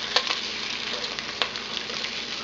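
Beef tongue frying in a pan, a steady close sizzle with a few sharper crackles and pops over about two seconds, no voices.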